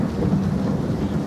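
Steady rain and a low thunder rumble in the shooter game PUBG, a constant dense wash of noise with a deep rolling undertone, continuous and moderately loud, with no talk.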